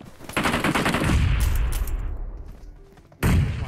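Heavy gunfire and a thudding grenade blast fill a battle royale game firefight, a dense loud burst that fades off before another sharp loud report cuts in at the end.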